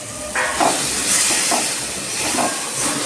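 Water hits a hot pan of tomato spiced with coriander, cumin and chilli powder, giving a loud, steady sizzling hiss with gentle surges.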